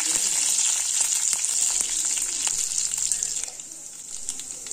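Mustard seeds, chana dal, two dry red chillies and garlic cloves fry in hot oil, giving a steady, close crackling sizzle with scattered pops and faint stirring ticks, no voices.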